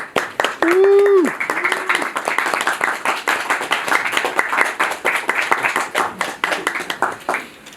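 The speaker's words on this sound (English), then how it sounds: "let's give them a big round of applause as they come in" Audience at a Disney Riviera Resort panel event claps for the panelists as they enter, a steady dense patter of many hands throughout, with a brief voice or cheer near the start.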